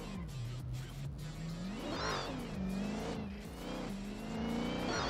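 Supercharged Nissan S14 drift car revving around a track corner, engine note rising and falling with a high whine layered over continuous loud motor roar.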